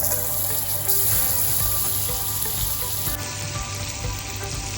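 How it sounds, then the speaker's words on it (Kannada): Butter and onions frying in a pan for a chole tempering, a steady close sizzle with faint watery crackle running evenly throughout, no talking. "ನೀರುಳ್ಳಿ ಮತ್ತು ಬಟರ್ ಹಾಕಿ ನಾನು ಫ್ರೈ ಮಾಡ್ತಾ ಇದ್ದೇನೆ."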